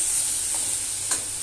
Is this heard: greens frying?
yes